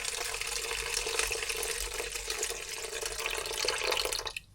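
Water pours steadily from a tap into a container on a scale for bread dough, a constant broad rush lasting several seconds before stopping abruptly at the end, with no talking.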